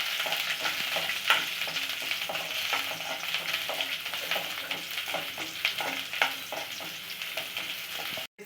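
Onion and a green chilli frying in oil for a Mandya-style mutton sambar, a steady crackling sizzle with frequent sharp pops and light stirring scrapes, close and continuous.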